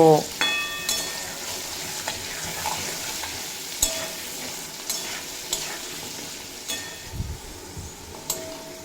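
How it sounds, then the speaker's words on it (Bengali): Potatoes frying in oil with salt and turmeric, crackling steadily while a spatula scrapes and stirs in a regular rhythm of sharp clicks. "আলুগুলো স্বাদ মতো লবণ আর পরিমাণ মতো হলুদের গুঁড়ো দিয়ে খুব ভালোভাবে ভেজে নেব"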